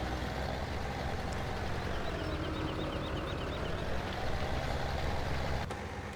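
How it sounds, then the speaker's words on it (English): A tractor engine idles in Farming Simulator 17, a steady low rumble running throughout at moderate level with a faint higher whine on top and no talk. "I'll leave the engine running."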